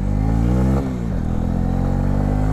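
A 2018 Honda CB125R motorcycle runs close and loud with a steady engine drone that briefly dips in pitch as the throttle changes, then settles back into a constant hum.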